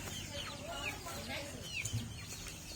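Rain-soaked chickens in a village yard clucking just after a storm, soft scattered clucks and short calls at a low level, with a voice speaking nearby.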